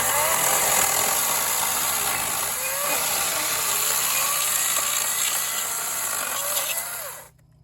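A battery-powered chainsaw with a kickback bar cuts through dry firewood, a loud continuous high whine with a rough grinding edge that cuts off abruptly at the end, no talk.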